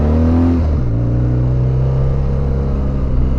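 A BMW R1200GS Adventure motorcycle engine drones loudly while riding, the pitch dropping as the rider shifts early on and then settling into a steady rumbling cruise with wind rush, no voices.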